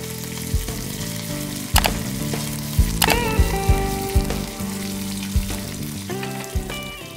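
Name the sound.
urad dal, mustard seeds, cumin, red chillies, curry leaves frying in oil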